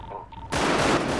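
Video game gunfire bursts in abruptly after a brief quieter lead-in, a loud, dense, sustained blast that fills the short moment with no voices over it.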